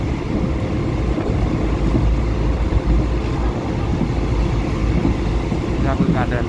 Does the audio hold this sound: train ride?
yes